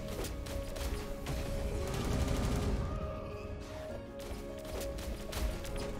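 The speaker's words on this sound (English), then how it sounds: "this is the barrage move" Rapid barrage attack in the Roblox-style anime fighting game Anime Showdown, a dense flurry of impact hits and mechanical clatter with ringing tones, steady through most of the stretch with a brief dip before a final surge.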